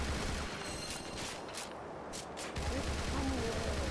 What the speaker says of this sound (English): The gunshots are so muted!